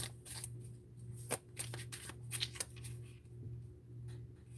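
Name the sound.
shuffling a deck of cards for a reading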